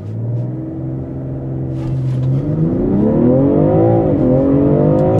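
A BMW M340i xDrive G20 makes a full-throttle launch from a standstill. The engine moves from a low idle rumble to a rising, revving roar that climbs steadily through the gears, loud and close.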